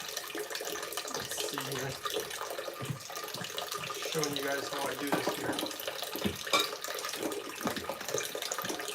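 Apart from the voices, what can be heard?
carbon filtered water pouring into container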